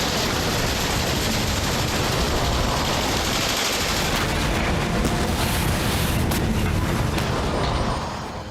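Sustained dense rattle of gunfire amid explosions in war-torn Afghanistan, loud and continuous like heavy machine-gun fire, with no voices over it, fading slightly at the very end.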